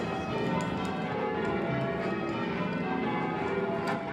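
English church bells rung in sequence from a tower of eight, a dense, continuous wash of overlapping ringing tones at steady loudness, with no talk.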